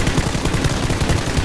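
Rapid gunfire in a video game, a dense unbroken burst of automatic shots lasting the whole moment, loud and close with no voices over it.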